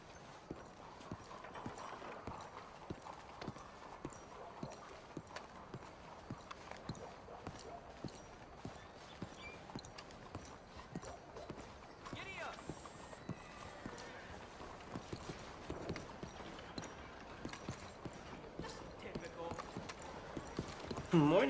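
A horse in a video game clip-clops along at a steady walk, the hoofbeats evenly spaced and moderately close for about twenty seconds, with brief voices passing by.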